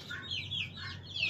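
Chickens from a gamefowl breeder's free-ranging flock cluck steadily and close by, several birds overlapping in a continuous chatter with a few sharper calls, no talking.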